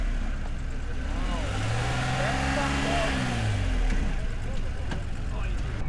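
A Honda NSX engine revs with a slipping clutch: a rising and falling engine tone swells over about two seconds and then fades, set against busy outdoor background noise at a car meet in New Zealand.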